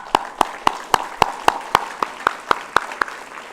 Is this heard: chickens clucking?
no